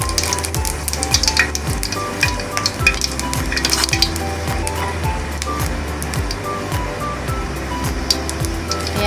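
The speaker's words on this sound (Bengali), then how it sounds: "আমি এখন 5 ফোড়ন দিচ্ছি।" Five-spice seeds tempering in hot oil in a wok while chapila fish curry is cooked, a loud continuous sizzle and crackle with rhythmic stirring scrapes and clanks throughout, no talking.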